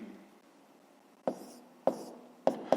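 Pen or marker writing a math equation for a fifth-grade multiplication exercise, a few sharp scratchy strokes and taps against a soft background hum, fairly close.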